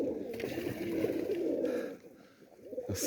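Soft, low cooing of racing pigeons rolls on close by for a couple of seconds, fading briefly before resuming.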